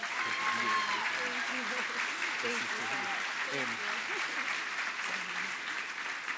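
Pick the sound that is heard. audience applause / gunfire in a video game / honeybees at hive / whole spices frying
audience applause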